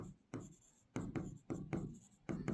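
A pen writes an equation by hand on paper, giving close, quiet scratchy strokes in short bursts separated by brief pauses.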